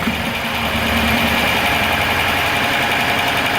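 A HEMI 5.7 V8 with a misfire and flat camshaft follower cranks over with the valve cover off, giving a steady, loud, continuous mechanical churning and whirring close by, with no voices over it.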